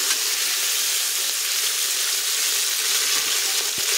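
Khichdi ingredients sizzle steadily in a hot pan while being stirred, a close, continuous frying hiss with occasional soft scrapes and no talking.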